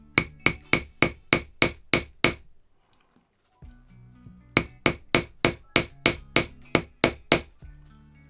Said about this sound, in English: I'm going to give them a little bit of a hammer.